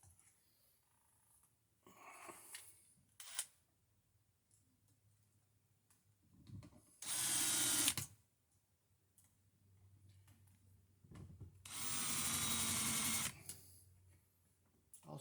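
Power driver running screws into a tamper-resistant wall receptacle, two loud whirring bursts of about a second each, close by, separated by quiet handling clicks and taps.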